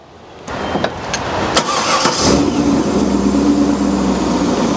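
A Corvette C5 engine starts and settles into a steady, throaty idle, loud and close, with a few sharp clicks as it catches.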